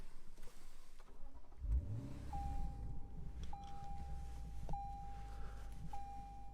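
A 2019 Lexus GS-F engine fires up with a short cranking burst, then settles into a steady, close idle rumble that runs to the end, with a thin electronic tone sounding over it and no talking.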